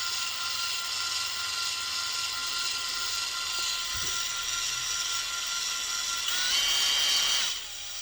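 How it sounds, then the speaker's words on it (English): A steady high-pitched whir of a spinning drill, used in rebuilding the carburetor of a 1958 Gale Buccaneer 5 hp outboard motor, runs throughout, with a brief low thump midway and a slight surge near the end before it eases off. "it looks like the drill's spinning backwards, but it's not"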